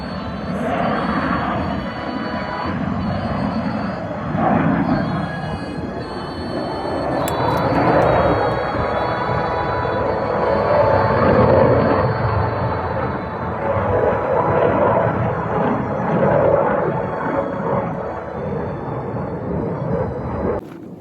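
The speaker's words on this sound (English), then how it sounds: "A fighter jet coming down the Loch Na Reach" A fighter jet flying low down a Scottish loch, a loud sustained roar that builds and swells over about twenty seconds and then drops away, with no talking over it.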